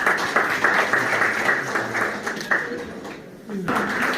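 An audience at a felicitation and honour ceremony applauds loudly and steadily, with sharp hand claps standing out of a dense wash that thins near the end.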